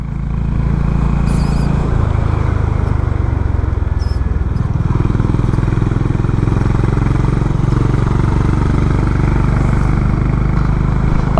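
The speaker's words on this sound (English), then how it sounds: "Love the sound of the bike, man. I just love the sound of the bike." Honda Highness CB350 motorcycle engine running steadily on a mountain ride, a loud continuous low rumble with a deeper, throatier pitch change about midway, no talking.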